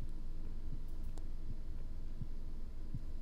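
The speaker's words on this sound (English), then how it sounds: "I hear like a heartbeat." A low, muffled heartbeat in the horror video game The Cat Lady, soft regular thumps repeating about every three-quarters of a second beneath a constant droning ambient hum.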